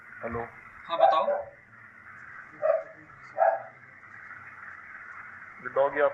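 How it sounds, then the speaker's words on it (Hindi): A dog barks several times in the background of a phone or webinar call, with muffled, spaced barks over a steady line hiss and someone speaking near the start and end. "ये डॉग आपके यहाँ भौंक रहा है क्या?"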